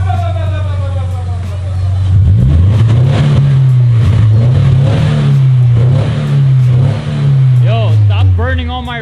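Subaru BRZ with a UEL header revving hard in a loud, close rising-and-falling pattern that holds steady then drops off, with people talking and shouting around it.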